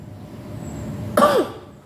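A single short, sharp cough bursts out close to the mic after a second of quiet room tone, then fades quickly.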